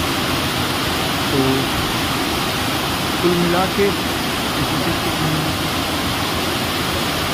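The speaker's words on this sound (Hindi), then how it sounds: "भयंकर बारिश हो रही है" Heavy rain pours down in a steady, dense hiss at Pangot near Nainital, India, with someone speaking briefly beneath the downpour.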